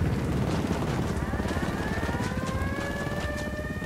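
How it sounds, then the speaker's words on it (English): A helicopter flies overhead in the Ghost Recon Wildlands shooter game, giving a loud, close, rapid rotor chop under a rising turbine whine that holds steady throughout. "Chopper!"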